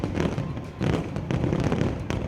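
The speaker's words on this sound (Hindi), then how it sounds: "इतनी जोरदार आतिशबाजी शुरू हुई कि ऐसा लगा जैसे दिवाली मनाई जा रही हो।" Fireworks crackle and pop in a dense, continuous barrage at a night display beside an illuminated fountain with tall water jets, loud bursts overlapping steadily without pause.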